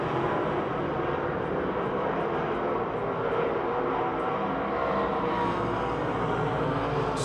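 Race car engines at Pennsylvania Motor Speedway, held at full throttle around the track, making a constant distant roar with a broad rumbling drone and no talk over it.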